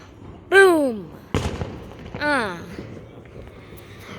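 Independence Day fireworks go off nearby with one sharp, loud bang between two falling whistle-like tones, then fade into quieter background crackle.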